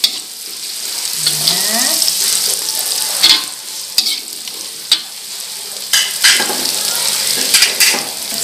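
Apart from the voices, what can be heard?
carrots stir-frying in a pan for fried rice vermicelli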